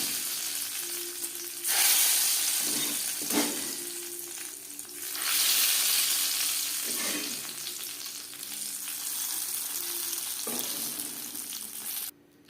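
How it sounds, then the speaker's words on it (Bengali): Whole spices sizzle steadily in hot oil in a pan, tempering for a winter vegetable khichuri, with a constant bright crackle that swells now and then as the pan is stirred; no voices. "পঁচিশ তিরিশ সেকেন্ড ভেজে নেওয়ার পর গ্যাসের ফ্লেমটা অফ করে দেব"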